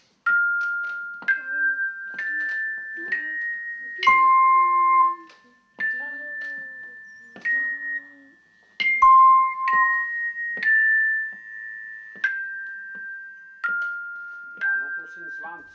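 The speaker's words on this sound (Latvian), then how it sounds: "Vēl uz mirkli ielūkojamies arī zvanu nodarbībā" First-grade pupils play handbells in a school music lesson, ringing a slow sequence of clear, sustained bell tones one after another, each note lingering and overlapping the next.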